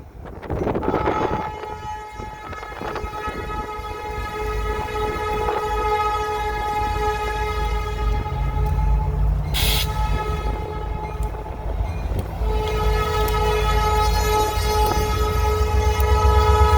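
Northbound freight train passing in heavy snow during a winter storm, a steady rolling rumble and clatter of cars held loud and close while the horn blasts in long sustained tones throughout.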